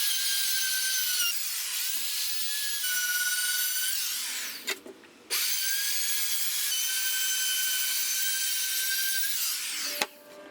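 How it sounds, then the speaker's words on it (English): A router fitted with a chamfer bit cutting along a wooden table leg, a loud, steady, high-pitched whine that drops out briefly midway and then resumes, close and alone. "So we've got our chamfer cut on all four sides, or four corners rather."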